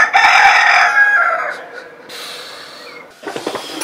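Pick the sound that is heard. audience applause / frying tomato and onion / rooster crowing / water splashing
rooster crowing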